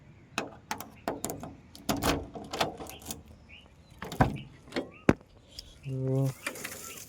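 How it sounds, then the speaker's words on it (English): A series of clicks and clunks from a Maruti Suzuki Alto 800 car door being unlocked with a key and opened, ending in a brief electronic tone and a whirring rush. "here is the keyhole for locking and unlocking the door. Let me unlock it"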